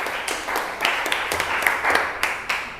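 Scattered clapping from a classroom of children applauding a student after a presentation, a steady patter of hand claps lasting a few seconds.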